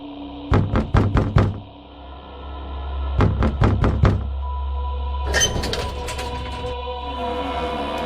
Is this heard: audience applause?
no